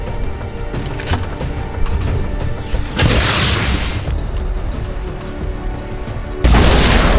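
Grenades and plasma blasts go off in the tactical game XCOM 2, with loud booming bursts at intervals amid sustained rumbling and crackling noise and no talking.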